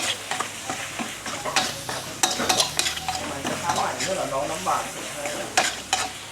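Vigorous stir-frying of squid in a wok: loud sizzling with scraping and clattering of a spatula against metal, in irregular bursts close by.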